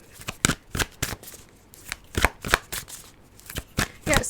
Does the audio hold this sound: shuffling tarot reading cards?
yes